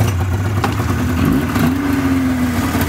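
A 1998 Polaris XCR 440 snowmobile engine cranks and catches, its mid-pitched two-stroke note rising steadily and holding close and loud, with no talking over it.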